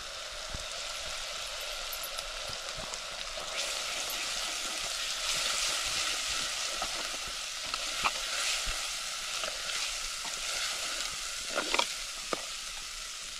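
Crushed garlic and green chilli paste with a pinch of turmeric sautéing in a pan over a wood-fired chulha, a steady broad sizzle running throughout, broken by scattered clicks and scrapes of a stirring spoon.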